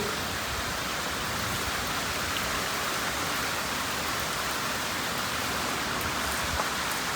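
Continuous heavy rain pouring down by the sea amid thunder and lightning, a dense steady hiss with no pauses, close and fairly loud.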